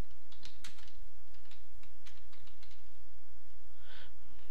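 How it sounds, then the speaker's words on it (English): Someone types notes on a laptop keyboard. The keys sound in quick, uneven runs of close, crisp clicks with short pauses between them, and there is no speech. "And you're going to type in whatever you need to type"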